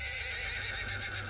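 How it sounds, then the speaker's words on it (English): Four horses whinnying in panic at night in the California mountains, a sustained strained neigh over low rumbling, fairly loud and continuous. "4 horses bolted in a panic."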